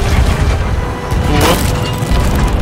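Ship cannon fire in the Sea of Thieves video game, a continuous loud boom with splintering wood and cracking over a low rumble, with one sharper burst near the middle and no talk.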